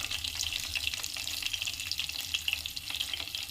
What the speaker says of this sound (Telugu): కొంచెం ఫ్రై అవుతున్నాయి కదా, ఇందులోనే పచ్చిమిర్చి, నెక్స్ట్ ఎల్లుల్లిపాయలు,